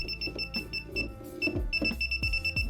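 Repeated high electronic beeps from a circuit tester in a 100-year-old house, fairly regular short tones, over a background of low thumps and handling noise.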